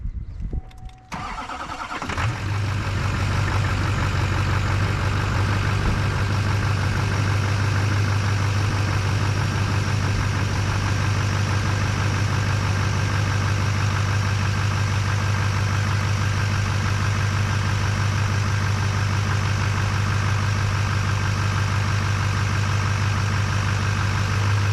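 A turbo diesel tow truck engine starts and then idles steadily, a loud, constant low rumble with a strong droning hum that holds unchanged for about twenty seconds, with no talking.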